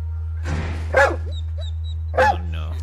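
A dog barks twice inside the Wolfenstein 2 video game, two sharp close barks with small yips and whimpers between them over a steady low hum.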